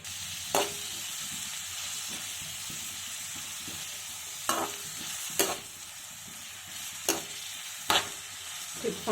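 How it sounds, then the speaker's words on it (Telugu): Onions sizzle steadily in hot oil for a brinjal dry prawn curry, with a spoon clanking against the pan every second or two; close and fairly loud, no voices. "గోల్డ్ కలర్ వచ్చేంత వరకు ఉల్లిపాయలు వేయించుకోవాలి"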